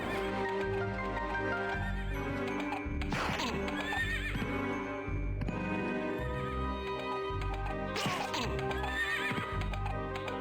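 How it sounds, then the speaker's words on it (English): Horses in Castlevania: Symphony of the Night: repeated loud whinnies and neighs rising and falling over clip-clopping hooves, arriving in two main bursts over a dense game soundtrack. "God, I hear them horses."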